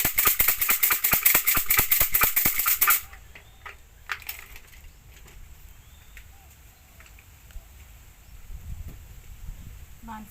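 Dense, rapid wooden rattling for about three seconds as Thai fortune sticks are shaken hard in a cylinder, then it stops; a lone clack follows amid quiet background.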